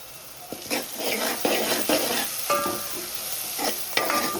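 Masala for dal stirs and sizzles in a hot pan, a steady close frying hiss broken by irregular scrapes and clinks of a spoon against the pan, with no talking.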